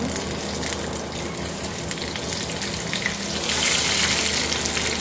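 Sliced onions fry in a pan with a steady, close sizzling hiss that swells louder and brighter toward the end, with no voices over it.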